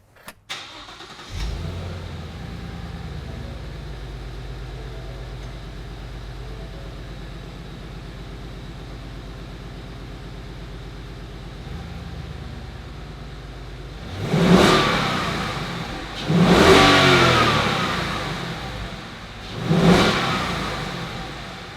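A 2015 Ford Mustang GT V8 fires up with a sharp crank, settles into a steady low idle, then roars through three loud, rising revs near the end.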